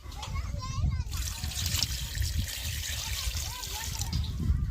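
Water trickles and splashes as it is poured into a large cooking pot in a home kitchen where a goat-head curry is being prepared, under nearby talk that includes a voice.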